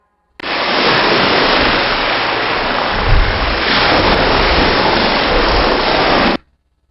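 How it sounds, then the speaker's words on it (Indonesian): Ocean waves washing onto a beach, heard as a loud, steady broadband rush of surf with one heavier swell partway through, alone with no voices, starting and stopping abruptly. "Nah, yang ketiga, bunyi ombak."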